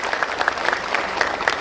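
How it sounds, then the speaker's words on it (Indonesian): Brief, loud clapping from a large audience at a gathering of military barracks alumni, with crisp hand claps packed densely across a short burst. "Tepuk tangan untuk KDI."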